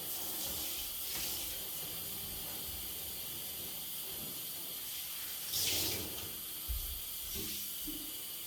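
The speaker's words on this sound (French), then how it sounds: "Alors en versant de l'eau comme ça, il faut faire très attention." Water poured carefully during house cleaning, taking care not to splash the wall: a faint, steady hiss of running water with a couple of brief louder splashes.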